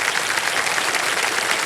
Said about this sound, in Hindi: ओके, तालियों के साथ इनका स्वागत हो जाए